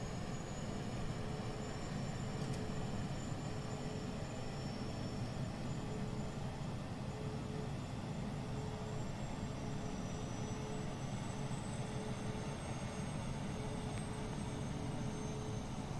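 Steady whining hum of an Airbus A320neo auxiliary power unit in Microsoft Flight Simulator 2020, a constant airy engine drone with faint tonal whine, even and unchanging throughout with no talking.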